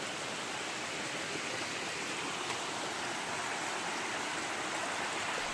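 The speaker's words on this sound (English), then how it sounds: "This is a hardcore Cascade water source." Cascading mountain stream along the Appalachian Trail, a steady, loud rush of water pouring over rocks, continuous and close with no break or voices for the whole stretch.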